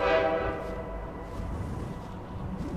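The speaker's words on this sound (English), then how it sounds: "Sounds like an old train anyway." An old train with its horn in the video game ShadowSide, a loud horn blast at the start fading into a steady rumbling rail clatter, with no talking.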